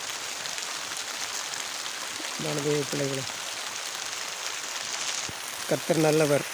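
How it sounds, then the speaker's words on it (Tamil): Steady rain falls in the early morning as a constant close hiss, with someone speaking over it in short bursts. "மழை"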